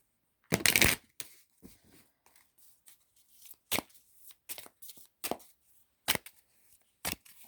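Tarot cards being shuffled and drawn during a reading: one loud riffle burst near the start, then a series of short, crisp card snaps and slides spaced about a second apart, close and alone with no talk.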